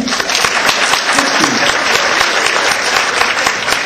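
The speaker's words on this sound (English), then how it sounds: "Give her applause." A live audience at a talk show claps warmly, many hands giving crisp overlapping claps at an even, loud level for the full few seconds.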